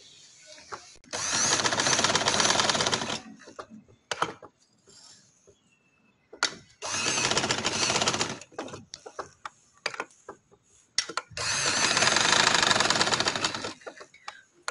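A sewing machine stitching a neck design on fabric, running in three long bursts of rapid whirring stitches separated by quieter pauses with handling clicks.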